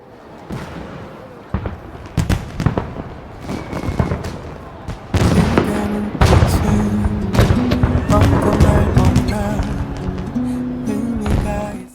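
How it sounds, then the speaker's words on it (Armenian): Loud fireworks crackle and bang in dense bursts, building in intensity, with music or tonal sound mixed underneath. "Ինչ է, հրավառություն երբեք չեք տեսել։"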